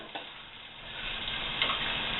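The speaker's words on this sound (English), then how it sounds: "You hear that start to sizzle." Soft, steady sizzling of onion frying in a pan for cream of celery soup, a faint crackle that rises slightly, with a couple of light clicks.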